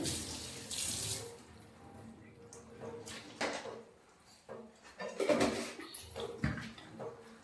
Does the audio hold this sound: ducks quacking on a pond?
no